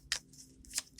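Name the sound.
shuffling playing cards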